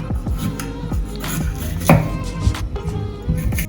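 Knife chopping a piece of sweet pepper on a board in a home kitchen, a series of close, crisp knocks in uneven rhythm, with a louder cluster of cuts partway through.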